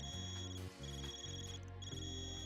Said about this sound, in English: Van, your cipher's ringing. Why does it sound so weird, though?